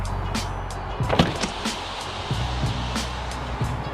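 Holding the unlock button on a VW Golf Mk3 sets the power windows moving. A low motor whir runs under scattered clicks and thumps from the car's body, close by with no talking.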